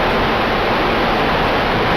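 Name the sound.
loud waterfall sound effect in an original Xbox RPG video game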